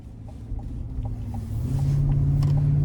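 A 2025 Chevy Suburban LS with a 5.3 V8 pulls away on a road test, its steady engine rumble building and holding a deeper drone as it gains speed, close and continuous with no talk.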